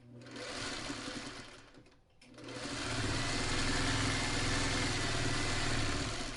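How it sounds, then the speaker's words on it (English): Sewing machine stitching quilt fabric pieces together, a close, steady motor whir with rapid needle chatter that pauses briefly and then runs on continuously. "I'm going to sew these two together first."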